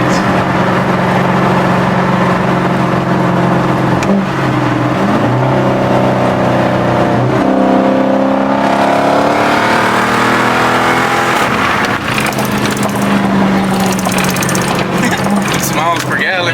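A car engine drones loudly from inside the cabin while driving, its pitch rising and falling as gears shift. Voices talk over the engine noise.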